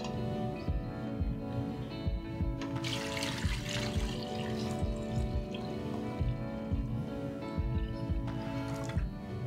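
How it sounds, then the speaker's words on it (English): Water pours steadily from a tap into a pot holding raw eggs, a continuous splashing gush that runs for several seconds, close and moderately quiet. "You want the water to come up right above the eggs."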